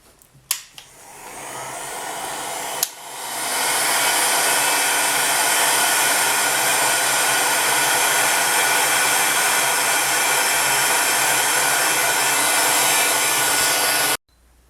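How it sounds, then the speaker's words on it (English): A heat gun on its medium setting blows a steady, loud, broadband whoosh while curing liquid polymer clay on a window pendant; after brief clicks it starts near three seconds and runs continuously until cutting off near the end. "now I'm going to bring over my heat gun. And it's going to be set on my medium heat setting"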